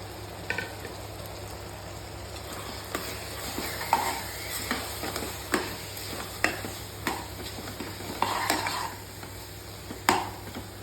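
Tomato and spice masala with turmeric, chili and coriander powders cooks in a pan for a potato and cauliflower gravy, giving a quiet, steady sizzle broken by irregular stirring scrapes and soft clicks, with no talking.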